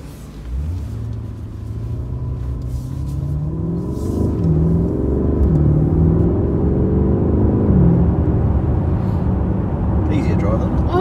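A sports car engine with a noisy exhaust, no sport exhaust option fitted, rumbles steadily and builds as it accelerates through gears, heard from inside the cabin with people talking over it.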